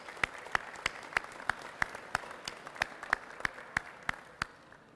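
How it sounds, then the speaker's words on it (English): Applause for students at a school opening ceremony, heard as a steady series of distinct, evenly spaced claps, fairly quiet and dry, roughly two or three per second throughout. "Let's give them a round of applause."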